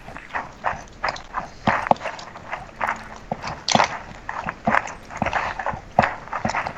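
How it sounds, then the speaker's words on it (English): A person chewing food loudly right next to the microphone, a rapid irregular series of wet crunching and smacking bites with no talking. "Chewing that shit hard, man."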